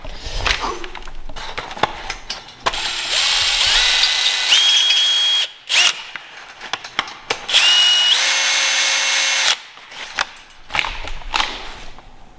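A power tool whirs in bursts while tightening bolts on a Prinsu roof rack fitted to a Toyota 4Runner. Several sustained runs rise and fall with short pauses between them, close and loud.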